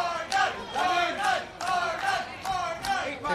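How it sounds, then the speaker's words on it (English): Crowd at Championship Court during a mixed pro doubles pickleball gold medal final, cheering and chanting in rhythmic swells with repeated rising bursts. "The crowd getting into it here at Championship Court in our final gold medal match of the day."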